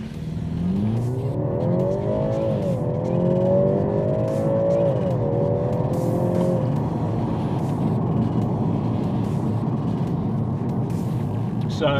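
A BMW 330i in comfort mode accelerates hard from a standstill, its engine note climbing steadily through smooth gear changes. Loud and close, it settles into a steady cruising drone.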